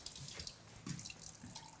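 Water runs steadily from a tap for a couple of seconds, a soft continuous splashing with faint background clatter.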